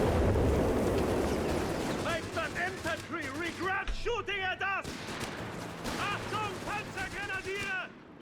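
Artillery and Vickers machine-gun bombardment rumble and crack in the World War II strategy game Company of Heroes 3, a dense, constant barrage beneath someone talking excitedly over it.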